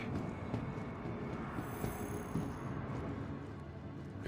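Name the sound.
train in the video game Star Citizen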